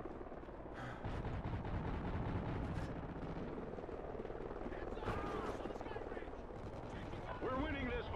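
Enemy helicopter in the PS4 shooter Call of Duty: Ghosts, a continuous chopping rotor drone mixed with bursts of gunfire and explosions, with game radio chatter over the battle.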